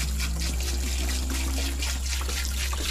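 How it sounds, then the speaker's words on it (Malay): Clean water trickles and pours steadily into a barrel, a continuous close liquid stream with a low hum underneath. "kita perlu masukkan 18 liter air. Air bersih ya."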